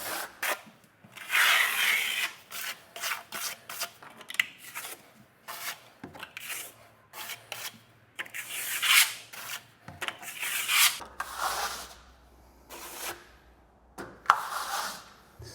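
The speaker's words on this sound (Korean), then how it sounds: "다음은 미장칼을 이용해서 이제 나머지 면을 칠을 진행할 겁니다." A plastering trowel spreads microcement across a wall surface, giving soft continuous rasping and scraping strokes of varying length, close and moderately quiet, with occasional light taps.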